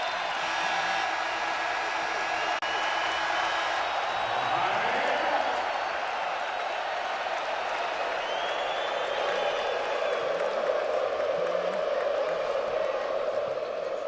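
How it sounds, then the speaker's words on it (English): An Arkansas whiteout crowd roaring at Bud Walton Arena during a college basketball game against Texas, a loud sustained wash of cheering and applause with broadcast commentary over it. "The whiteout crowd is in full effect now"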